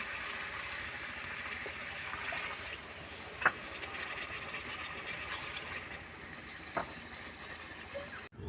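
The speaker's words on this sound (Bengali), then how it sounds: "মটন কষানো হয়ে গেছে, এবার আমি পরিমাণ মতো জল ঢেলে দেব।" Water poured into a pot of fried mutton for curry, a steady soft gushing pour that runs the whole time, with a couple of brief clinks on top.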